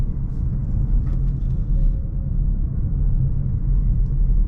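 A 2024 Kia Niro EV accelerating on the road, heard from inside as a steady low road and tire rumble with a faint motor whine, continuous and moderately loud with no talking.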